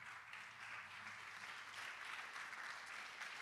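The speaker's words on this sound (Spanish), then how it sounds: "Déale ofrenda de palmas al Señor." A church congregation claps together as an offering of praise during a Saturday service, a steady, dense wash of applause sustained evenly throughout.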